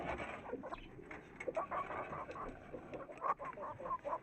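Egg-laying hens in a coop give short clucks and squawks at close range, scattered over steady shuffling and rustling noise, with no talk.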